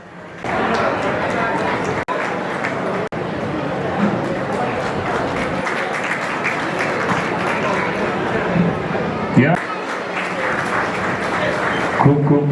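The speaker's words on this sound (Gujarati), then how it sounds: "તાળી થોડી પાડતા રહેજો." Sustained audience applause at a Rana Samaj community appreciation and award ceremony in Valsad, a steady broad wash of clapping lasting throughout with a few brief dips and faint voices mixed in.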